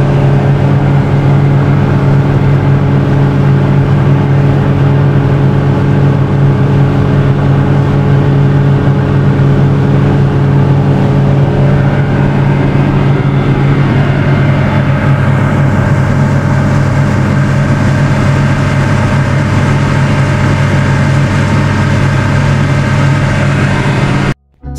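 Single speedboat engine running loud and steady at a low drone near Komodo and Padar islands, continuous throughout with a slight change in tone partway through.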